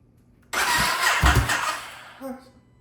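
Ducati SuperSport 950 motorcycle with no gas tank fitted, attempting to start: a sudden loud starter crank whirring for about a second and a half, fading out, followed by a brief chirp, close by.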